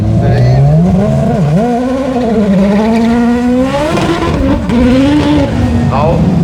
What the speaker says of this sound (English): The second different race car that Amos and crew have had here.